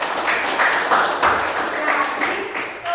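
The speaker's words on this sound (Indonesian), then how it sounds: "silakan tepuk tangan" Students in a classroom clap their hands during a maths lesson, a steady wash of mixed claps lasting the whole moment with no clear pauses.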